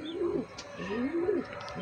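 A pigeon from a Bengali loft of master breeding pairs gives two rolling coos in quick succession, close and clear over faint background noise.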